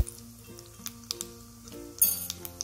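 Mustard seeds, cumin and sesame crackle in hot oil for a dhokla tempering, faint sizzling with scattered sharp pops and ticks close by, plus a louder burst of spattering near the end.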